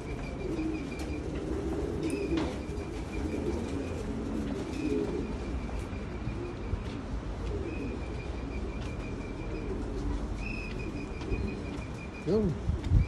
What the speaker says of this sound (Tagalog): Ganda ng pagmasdan mga kalapatid.